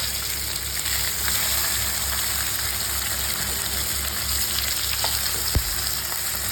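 Fish fries in a pan with a loud, steady, dense sizzle close up, and one sharp knock late on as a piece is turned over, with nobody talking.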